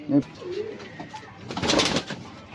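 A Pawmoch female Lokhande pigeon with black nails gives a short, soft, close coo, with a faint background voice.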